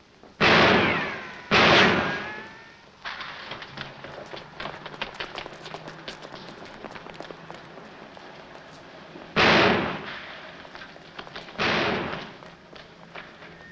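A pair of sharp, loud gunshots from a 1940s film scene, followed by scuffling and running footsteps, then two further sharp bangs, with no talk.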